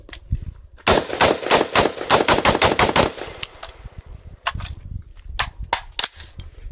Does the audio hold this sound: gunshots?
yes